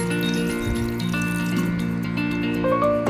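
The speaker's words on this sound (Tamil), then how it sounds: "இதில் ஒரு 3/4 டம்ளர் தண்ணி ஊற்றிக்கிறேங்க." Water pours from a tumbler into a pressure cooker holding country chicken, a steady splashing trickle heard nearby over a sustained tonal hum in the background.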